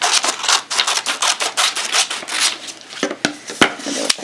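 Scissors snip through a paper pattern for a 22 by 22 inch Hawaiian quilt in a quick series of close, crisp cuts and rustles, ending with a few sharper clicks.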